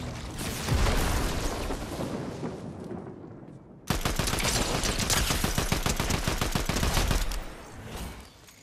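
Sustained rapid automatic gunfire from a video game weapon, loud and continuous, broken by a brief pause before a second long burst of fast, evenly spaced shots.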